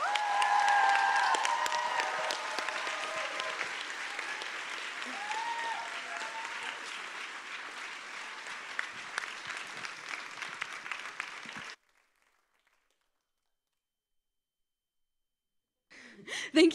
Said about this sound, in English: I wanted to ask for a big applause for the coaches of video team